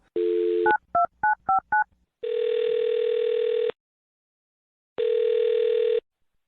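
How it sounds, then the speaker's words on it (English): A telephone is dialed: a short burst of DTMF keypad tones, five quick beeps in a row, followed by two long ringback tones with silence between, clear and close. "I'm going to dial this phone right now"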